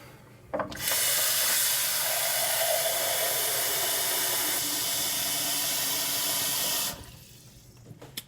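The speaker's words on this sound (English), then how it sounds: "So I just filled that with water." Tap water runs steadily for about six seconds, a broad hissing gush into a pot for boiling an egg, starting and stopping abruptly, with a faint clunk before and after.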